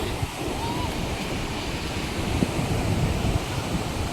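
Steady wind and surf roar at Suryalanka beach, a continuous broadband wash of breaking waves with microphone wind buffeting, moderately loud and unbroken with no speech.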